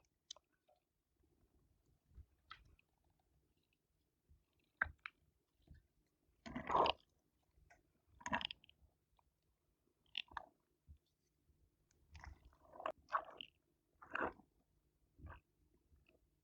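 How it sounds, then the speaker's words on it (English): Strawberry whip dessert mixture being folded in a bowl makes quiet, scattered wet squelches and soft slaps in irregular bursts with silence between them, and no one talks. "you're going to kind of just mix it, fold it"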